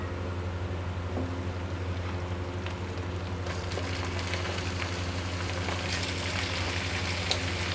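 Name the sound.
chicken added to browned onions, frying in karahi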